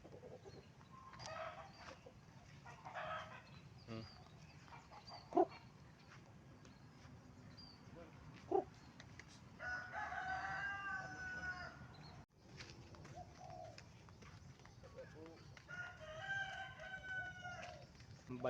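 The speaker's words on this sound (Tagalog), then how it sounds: "May mga manok pa body oh." Chickens cluck and a rooster crows several times outdoors, moderately distant, over a low background of ambient noise with a brief murmur.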